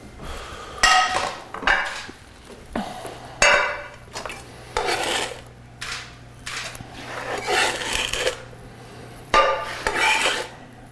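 Peppercorns and fresh herbs crushed under the edge of a pan, with a series of gritty grinding scrapes and knocks coming in uneven bursts, close up, and no voice over them.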